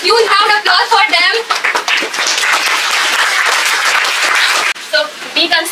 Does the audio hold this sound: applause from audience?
yes